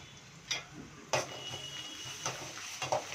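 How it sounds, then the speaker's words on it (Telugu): Ginger-garlic paste frying in a pan for mutton keema gravy: a soft steady sizzle with a few sharp spoon clinks and scrapes against the pan. "అల్లం వెల్లుల్లి పేస్ట్ పచ్చివాసన పోయేంత వరకు కొంచెంసేపు అలా వేయించుకోండి"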